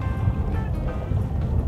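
Boat motors idling to hold position at sea while fishing, a steady low rumbling drone close by, mixed with wind and water wash and no clear pauses.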